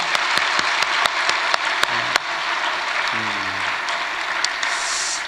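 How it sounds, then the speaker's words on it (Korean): A church congregation, including middle and high school students, applauding at an early morning service, a steady wash of many hands clapping with a few sharp individual claps standing out. "박수 한번 합시다"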